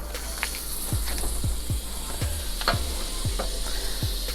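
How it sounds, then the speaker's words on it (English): Butter sizzles in a pan for toasting bakery burger buns, a steady crackling hiss with a run of sharp pops and light scraping taps spaced across the few seconds, close and alone. "So in a different pan, we will add some butter."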